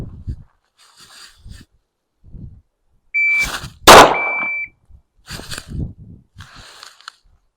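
A shot timer beep followed almost at once by a single loud MP5 shot fired at a target from the high ready, with brief movement and gear noise around it and short bursts of talk before and after.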